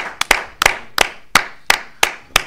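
A church congregation claps in acclaim for the King of Kings, eight sharp, evenly spaced claps ringing out close and loud, with no other sound between them.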